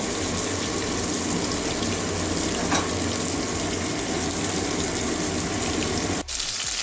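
Pointed gourd fries steadily in a pan, a dense, even sizzle running throughout with no talking, cutting off abruptly near the end.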